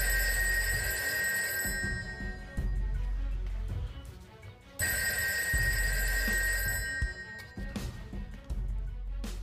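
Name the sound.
telephone ringing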